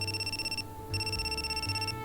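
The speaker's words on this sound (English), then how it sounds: "Just as someone else's phone starts ringing shrilly." A shrill telephone rings in the horror adventure game Spirit Hunter: Death Mark, two bright electronic ring bursts split by a short pause over a low, steady game background.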